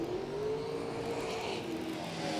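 A super sedan race car accelerating hard out of a corner at Gympie Speedway, its engine note rising and holding in a steady loud whine, with crowd and track ambience behind and no talking.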